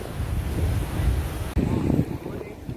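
Wind buffets the microphone beside the sea on a Konkan beach with blue water and hills, a broad rushing roar of surf and gusts, close and loud, with a brief cut midway.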